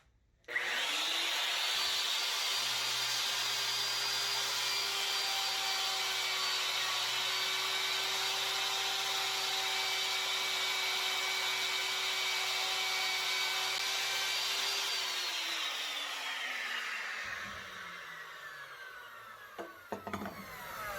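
A wood router spins up, then cuts a door hinge test piece in wood with a loud, steady high whine that holds for about fifteen seconds before winding down, followed by a few faint clunks.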